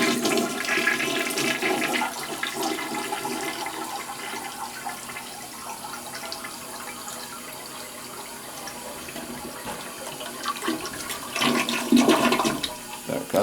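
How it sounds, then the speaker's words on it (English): An American Standard toilet in a Ramada Inn hotel bathroom in Painted Post, NY flushes, a loud rushing surge of water that swirls steadily, then refills with a hiss and gurgle, swelling again near the end. "Let's flush the toilet."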